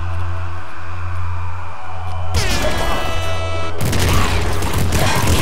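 In the video game Nuclear Throne, a nuke launcher fires with a sudden burst and then a bigger blast that floods everything in roaring, crackling noise over a steady electronic game soundtrack, loud and close.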